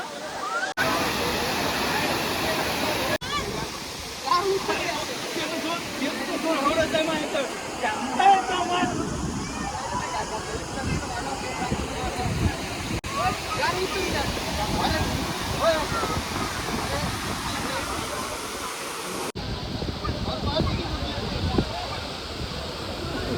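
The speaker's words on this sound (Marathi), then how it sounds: "धबधबा बघा धबधबा दाखव" A waterfall at the Matheran hill station roars with a constant, rushing wash of water, buffeted by wind gusts on the microphone while people talk nearby over the noise.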